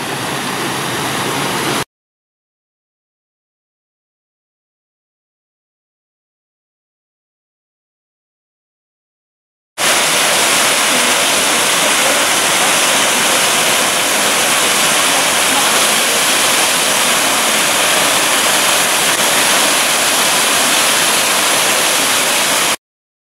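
Water crashes down the Weeping Rock waterfall at Wentworth Falls in the Blue Mountains as a loud, steady roar. The roar drops out briefly near the start, then returns and holds unbroken for a long stretch.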